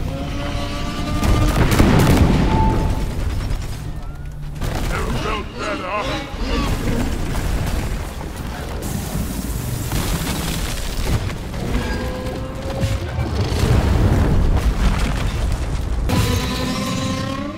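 Explosions and gunfire in the video game Deep Rock Galactic, from ice spear and bulk detonator fights: loud, dense booms and rumbling blasts stacked over constant game noise and music, close and continuous.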